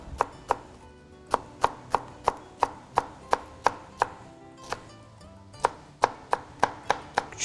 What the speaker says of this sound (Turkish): küçük küçük doğramaya başlıyoruz